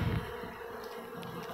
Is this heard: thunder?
no